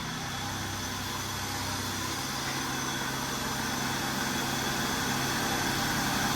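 The engine of a 2005 Buick LeSabre, just restarted after a fault, idles with a steady, loud, close hum and vibration, running continuously with no talk.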